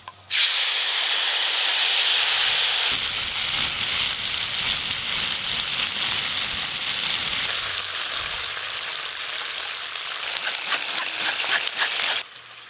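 A strained paste of mustard, Kashmiri chilli and green chilli hits hot oil tempered with nigella seeds in a kadai, erupting into a loud, close sizzle that settles into a steady hiss and bubbling before stopping abruptly.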